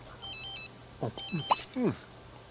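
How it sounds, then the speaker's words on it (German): Cartoonish electronic phone ring from The Sims 3, two short bursts of beeping tones, mixed with the garbled Simlish chatter of in-game characters, with low game ambience underneath. "Sein Telefon."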